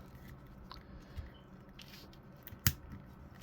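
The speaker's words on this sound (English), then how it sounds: "It is hinged pegs, as you can hear it snap each time." Hinged peg joints on a Marvel Legends Skrull action figure snap as they are moved: faint, close clicks with one sharper, louder snap near the end, against quiet room noise.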